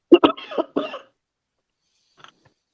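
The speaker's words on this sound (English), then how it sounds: "Control that cough." A short burst of harsh coughing, two or three close hacks in quick succession, then near silence with a faint sound at the end.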